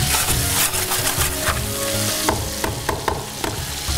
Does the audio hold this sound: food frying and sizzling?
yes